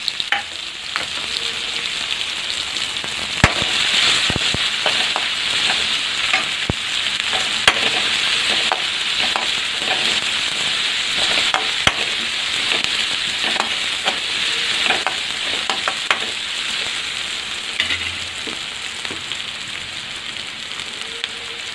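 Onions sauté in a pan with curry leaves, mustard seeds, asafoetida and a pinch of salt, a dense continuous sizzle with close stirring scrapes and small clicks throughout, no voices.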